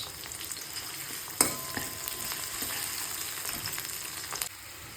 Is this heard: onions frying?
yes